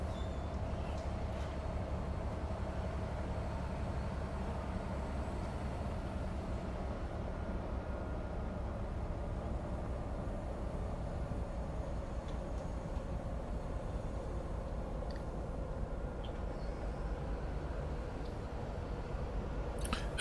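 Train carriages rolling along the track in the railway simulator game Train Life: a continuous, fairly quiet low rumble with a faint steady tonal hum and no talking.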